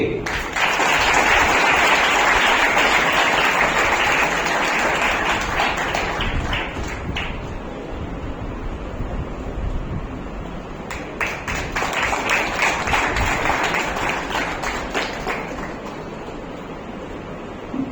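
A hall audience at an oratory award ceremony claps loudly and steadily for a runner-up, the dense applause dipping midway and swelling again before trailing off.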